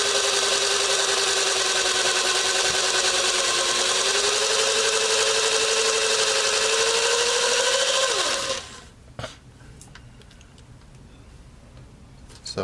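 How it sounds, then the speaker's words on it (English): A power tool whines steadily at high speed while grinding out a valve seat on a V6 MerCruiser ski boat engine, its pitch sagging slightly under pressure before winding down and stopping, followed by faint clicks and handling noises. "That'll help grind that seat out."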